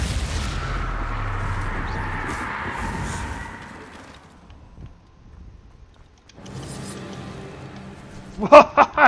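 Repeated Confringo fire-spell explosions in Hogwarts Legacy: a rumbling blast that dies away, a near-silent gap, then another burst ending in a few sharp cracks, close and loud.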